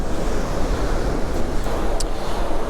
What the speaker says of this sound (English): we're getting quite a lot of noise from the wind and the sea and the tide